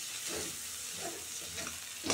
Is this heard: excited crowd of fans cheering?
no